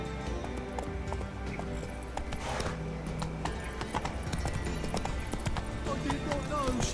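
A horse galloping in the video game The Witcher 3, a steady close clip-clop of hooves running continuously beneath a speaking voice.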